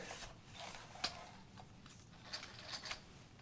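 A car jack lowering a 1949 vehicle gives faint mechanical ratcheting and creaking, with a few sharp clicks and clanks spread over a few seconds.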